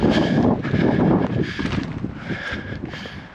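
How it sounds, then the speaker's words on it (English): Wind buffeting on an exposed mountain peak at Mount Pinos in Los Padres Forest, a steady loud rushing roar with gusty swells across the whole stretch, no talk. "Definitely windier up here because we're on a peak."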